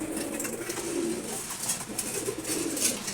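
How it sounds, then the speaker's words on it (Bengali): Racer pigeons coo in low, throaty rolling calls, several overlapping close by, with soft rustling and fluttering around them. "তারপর এখানে হচ্ছে রেসার কবুতর"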